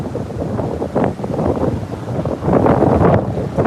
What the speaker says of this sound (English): the wind's kicking on